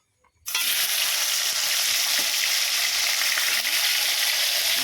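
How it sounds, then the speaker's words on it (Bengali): Crab pieces drop into hot oil in a pan and burst into a loud, continuous frying sizzle after a brief quiet moment, hissing steadily to the end with no talking. "এগুলো একটু ভেজে নিই"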